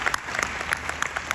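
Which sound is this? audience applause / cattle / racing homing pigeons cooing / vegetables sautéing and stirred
audience applause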